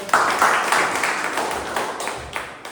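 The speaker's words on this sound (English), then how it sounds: "A huge round of applause for Toastmaster Rishabh." An audience at a Toastmasters club meeting applauds a Toastmaster, a dense patter of clapping that starts strong and gradually thins out over a few seconds.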